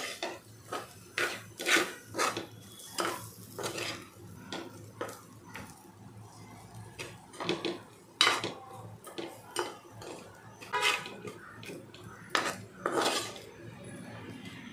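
Grated fresh coconut is stirred into roasted barnyard millet in a metal pan: a spoon scrapes and clinks against the pan in repeated uneven strokes, close and fairly quiet, with brief pauses between bursts.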